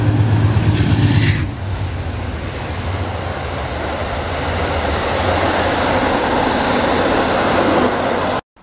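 An Amtrak passenger train rushes past close by with a broad, steady roar and rumble that holds for several seconds before cutting off abruptly.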